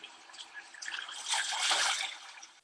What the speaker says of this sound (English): I find that this is the ocean sound.